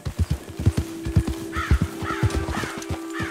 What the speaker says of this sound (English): I thought I saw some scavenger birds over here.